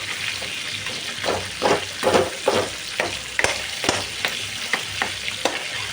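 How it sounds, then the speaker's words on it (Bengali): Katla fish head pieces fry over low heat with a constant sizzle while a spatula breaks them up in rhythmic, evenly spaced scraping strokes, close and fairly loud. "চুলতে দিয়ে মাছগুলো ভেঙে ভেঙে দেবেন আস্তে আস্তে করে ভেঙে দেবেন তো ভেতরেও মাছগুলো ভালো করে ভাজা হবে"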